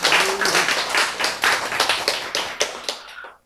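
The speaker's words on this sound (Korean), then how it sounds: "박수." A Korean Bible-lesson audience claps after the story of Jonah: a short, close round of applause that starts dense and thins into scattered claps before stopping.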